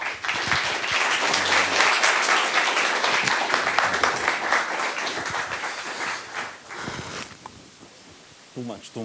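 An audience at a cybersecurity talk gives a warm, sustained round of applause for the speaker, with dense clapping for about six seconds that fades as a voice begins speaking.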